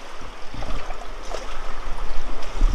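Fast current of the Sangu river in Bandarban where boats run, close gurgling and splashing water in uneven surges, moderately loud with no talk.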